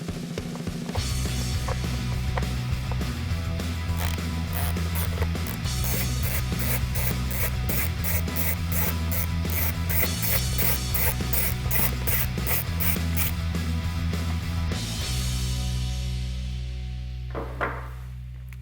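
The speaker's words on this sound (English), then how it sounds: "So all we're going to do now is just undo that bolt." A ratchet with a T30 bit undoes the single seat bolt on a BMW R12 NineT motorcycle, loud close clicking in repeated runs for about fifteen seconds, then a brief quieter handling sound.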